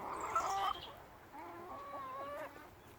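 Silkie hens in a backyard flock give a few close, soft clucks and throaty murmurs, a brief burst at first and then quieter warbling calls.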